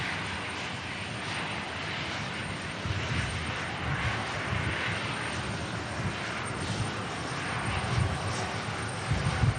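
A TAP Air Portugal Embraer jet takes off from Manchester Airport bound for Lisbon, its engines a steady broad roar at full power, fairly loud and sustained, building slightly toward the end.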